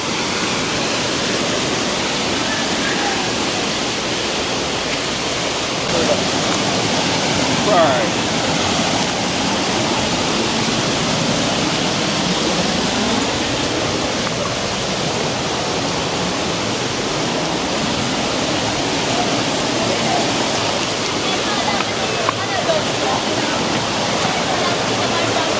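River water rushes past in a loud, continuous broadband roar, steady and close throughout with no breaks.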